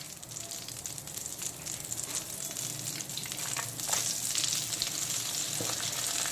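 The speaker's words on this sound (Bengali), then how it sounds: "আলু আর পেঁপে ভাজার তেলেই দিয়ে দেবো প্রথমে গোটা জিরে, গোটা গরম মশলা, তেজপাতা ফোড়ন" Whole cumin, whole garam masala and bay leaves sizzle in hot oil, a dense steady crackle and hiss that swells slightly midway, close and without voices.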